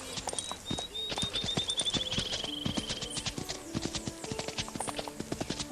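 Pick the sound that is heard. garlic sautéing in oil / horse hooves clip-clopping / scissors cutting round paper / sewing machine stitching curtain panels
horse hooves clip-clopping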